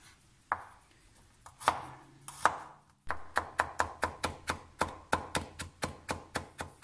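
Garlic chopped on a board for meat-stuffed mushrooms: a few scattered knife strikes, then a steady run of crisp, evenly spaced chops, close and clear with no talk.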